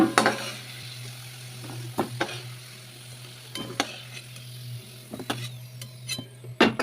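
Potatoes fry in hot oil in a pan for a vegetarian cabbage dish, giving a steady low sizzle broken by sharp clinks and scrapes of a utensil stirring against the pan.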